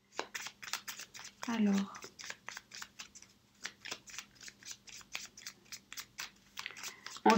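Tarot cards shuffled and added to a deck, producing a run of soft, rapid riffling taps and card slaps that continue steadily under intermittent speech, with a brief crinkly rustle partway through.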